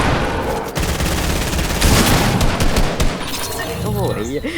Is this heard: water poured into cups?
no